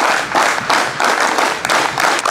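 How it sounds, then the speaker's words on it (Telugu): A crowd claps for runners finishing a 5 km run at police constable training, with bursts of applause rising and falling over a couple of seconds and no voices heard. "వీళ్ళందరి కోసం వన్స్ అగైన్ మంచి బిగ్ క్లాప్స్."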